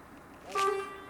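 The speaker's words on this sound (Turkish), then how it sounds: "sağlam korna ha görüyor musun?" A Volvo FH12 420 truck blows its horn once, a short, loud, tonal blast that rises out of quiet cab background noise and fades into a faint hum.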